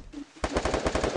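Rapid burst of automatic gunfire in a four-player squad shooter match, loud, close and steady in rhythm, kicking in after a brief quiet lead-in.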